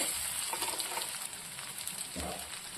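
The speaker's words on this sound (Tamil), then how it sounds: "பச்சை மிளகாவை நான் இதில் சேர்த்துக்கிறேங்க பச்சை மிளகாய் சேர்த்துட்டு இதை நல்லா ரெண்டு முறை நல்லா கிண்டிட்டு" Shallots and green chillies fry in a pan, giving a steady soft sizzle with a few light scraping stirs and a duller thump near the end.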